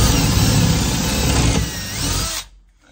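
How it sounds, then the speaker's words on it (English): A power drill bores a couple of holes during a woodburning insert installation, a loud steady whir lasting about two seconds before winding down and stopping, with no talk over it. "We're gonna drill a couple of holes right here."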